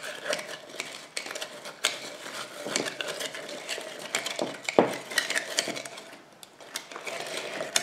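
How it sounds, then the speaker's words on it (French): A spoon scrapes and clinks steadily against a container while lye is stirred into powdered goat milk for soap, soft irregular scratching taps with no talking. "Je mélange comme ça jusqu'à ce qu'il n'y ait plus de petits grains, que ma soude soit bien dissoute."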